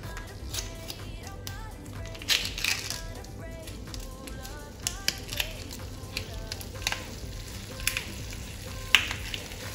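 Sauce poured into a hot pan for a home-cooked dish sizzles and crackles steadily at close range, with light stirring taps and occasional sharper clicks throughout.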